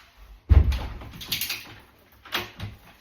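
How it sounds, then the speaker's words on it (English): A door gets a knock and then opens, starting with a solid close thump, then some rattling, and ending with a second, softer bump. "Somebody's knocking at the door."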